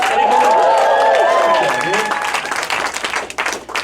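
Comedy club audience applauding and cheering for a stand-up comic, a dense burst of clapping that fades after a couple of seconds into scattered claps and crowd noise, with a voice speaking over it.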